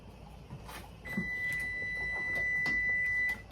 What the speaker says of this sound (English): that's my timer for my lids